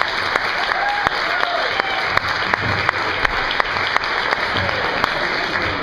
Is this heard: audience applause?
yes